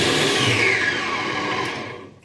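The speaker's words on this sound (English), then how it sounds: "Cream your butter and your sugar." An electric mixer whirs steadily, creaming butter and sugar with vanilla essence for yo-yo biscuits, a loud, close, continuous motor drone that tails off slightly at the end.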